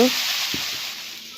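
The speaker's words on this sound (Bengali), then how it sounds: "কফির জন্য আলু ভাজা করে নেওয়া হয়েছে" A soft, continuous sizzle of potatoes frying in hot oil, with a brief clink near the start.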